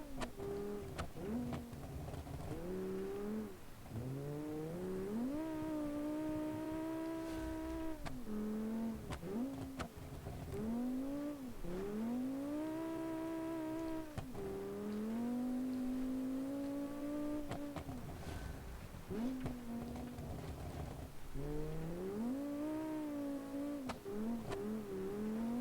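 A rally car engine in a classic rally video game from the 1984 season revs and accelerates repeatedly, its pitch climbing through the gears and dropping on each shift, loud and continuous with no talk.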